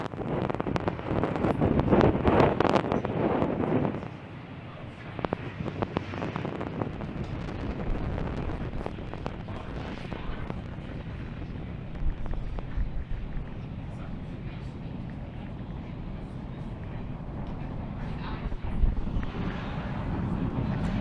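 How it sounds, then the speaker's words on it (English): SpaceX Falcon 9 rocket climbing after liftoff from pad 39A carrying Starlink satellites, a broad continuous roar with wind-buffeted rumble, loudest at first and then steady and distant throughout. "Falcon 9 has successfully cleared pad 39A and carrying our stack of 49 Starlink satellites into orbit"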